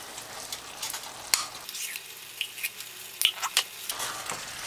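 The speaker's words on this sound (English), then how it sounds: "Just gonna blend it in and then let it cook for about a minute or so without even stirring it." Browned meat sizzles in a pan just after tomato paste is added, a soft continuous crackle with scattered sharp pops and spatters, fairly close and low in level, with no talking.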